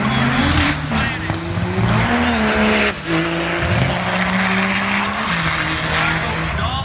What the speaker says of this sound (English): The fattest diesel powered door car on the planet.